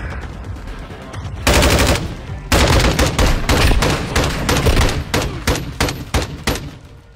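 Dense bursts of automatic gunfire from a duo shooter video game, loud and rapid, with strings of sharp shots clustered in heavy stretches and tailing off into separate cracks.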